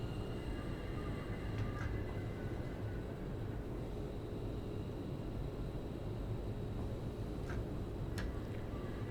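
A passenger train on the West Coast Main Line rolls into Wembley Central station in a simulator, giving a steady, even low rumble with a few faint high squeals from the wheels.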